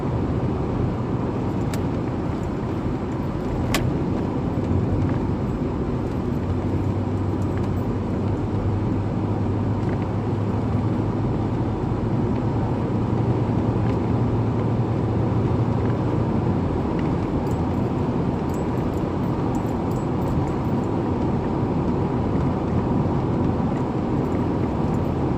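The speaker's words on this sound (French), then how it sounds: "Le bruit du moteur est très peu présent dans ce genre de voiture." Lincoln car with a replaced exhaust, heard from inside while driving: a steady, muted low road and engine rumble with constant cabin noise and no distinct engine revving, unchanging throughout.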